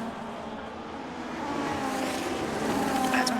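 Racing cars in Project Gotham Racing at the Netherlands track roar with engine drone that swells as a car moves past for an overtake, fairly loud and continuous.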